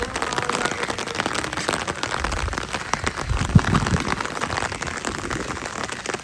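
Heavy rain falling outdoors, a dense steady patter hitting surfaces, loud and continuous with a few heavier drops.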